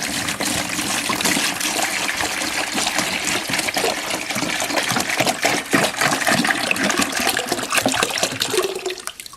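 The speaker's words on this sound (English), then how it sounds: "I'm going to put the gallon of water" A gallon of water gushes steadily into a container, mixed for hypertufa, a loud continuous pour that fills the whole stretch and tapers off abruptly at the end, with no talking.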